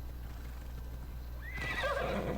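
A horse in Assassin's Creed Odyssey whinnies loudly in a rising and falling call over steady game ambience, with the neigh entering halfway through and hoofbeats faint beneath it.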